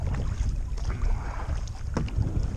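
Paddling an Old Town kayak on windy, overcast water: soft water sloshing and low rumbling wind buffeting the microphone, with a brief splash near the middle and no talking.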